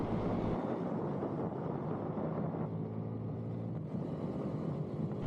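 A Husqvarna Svartpilen 401 motorcycle engine drones steadily while riding, mixed with strong wind rush over the microphone; no one speaks.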